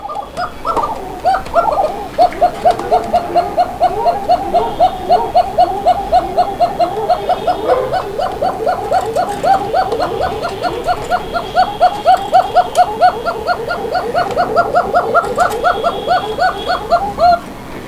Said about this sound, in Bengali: কোকা কবুতর তো প্রচুর ডাকে